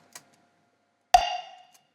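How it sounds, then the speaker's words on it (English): A single percussion sample with reverb: a faint tick, then one bright metallic, bell-like hit that rings out and decays over about half a second into a roomy tail, heard alone and close. "The audio track just contains some kind of a percussion sample that sounds like this."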